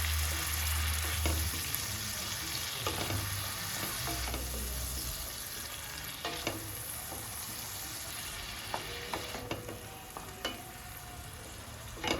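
Continuous sizzling of a blended onion and tomato paste frying in a pan until dry for egg masala, with occasional stirring scrapes and crackles, close and steady throughout.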